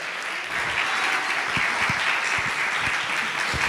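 A church congregation claps together in praise during a worship service, a dense, steady wash of applause that fills the whole space from start to finish with no speech.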